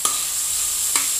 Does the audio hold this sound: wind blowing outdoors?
no